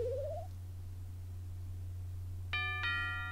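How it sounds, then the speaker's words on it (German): A doorbell chime from the video game Miitopia sounds as two quick bright tones over a steady low hum, with a short rising electronic tone at the start. "Es klingelt an der Tür."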